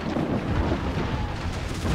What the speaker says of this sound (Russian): Похоже, будет шторм, капитан.